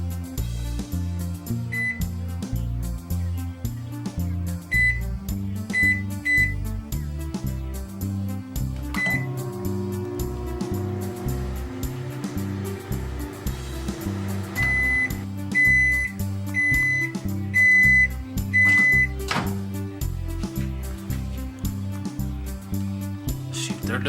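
An Emerson MW1612B microwave oven runs with a steady low hum, a few electronic beeps sounding intermittently over it.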